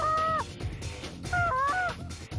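Geese honk during a goose hunt: a couple of loud, nasal two-tone calls at the start, then a burst of several overlapping honks a second later, close and clear over low outdoor rumble.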